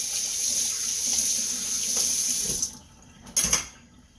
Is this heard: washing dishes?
yes